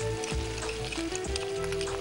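Boiled chana dal tipped into a hot pan sets off a steady, close sizzle that runs the whole stretch, with a faint tonal hum and soft stirring thumps underneath.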